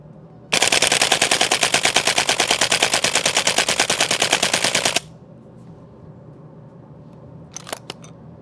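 G&G gas blowback airsoft gun fires one long, loud, rapid full-auto burst of cracking shots that stops abruptly, followed by quiet room tone and a couple of faint clicks.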